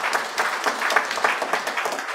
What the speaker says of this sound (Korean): 두 분 일어나실 때 우리 박수로 격려해 주면 좋겠습니다